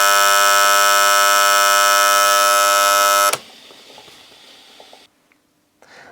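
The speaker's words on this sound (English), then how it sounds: "the buzzer sounds" A Teasmaid tea-maker's buzzer sounds as a loud, steady electric buzz for about three seconds, then cuts off abruptly, leaving faint quiet room noise with a few small clicks.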